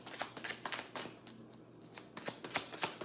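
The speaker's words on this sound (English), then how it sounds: "How about y'all tell me when to stop shuffling?" Tarot cards being shuffled by hand, a quick run of crisp, papery riffling bursts in an uneven rhythm, close and fairly quiet with no talking.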